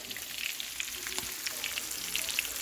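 Battered catfish frying in hot oil, a steady crackling sizzle full of small bright pops throughout, moderately close with no talking over it.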